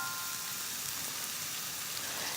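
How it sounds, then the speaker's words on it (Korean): Bacon sizzling in a hot pan with garlic and green onion, a steady, bright crackling hiss like rain on a surface, continuous and even throughout. "베이컨 넣어주면서 이제 여기서 베이컨을 익혀주기도 하지만"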